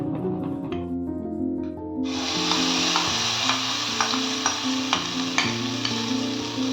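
Ground bean paste dropped into hot oil tempered with dried red chilli and nigella seeds, bursting into loud close sizzling and then frying steadily under regular scraping stirs.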